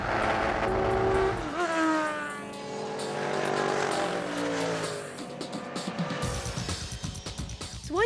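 A road-going race car drives past, its engine climbing and falling through the gears with a rising whine, then a closer rough, pulsing rumble as it passes.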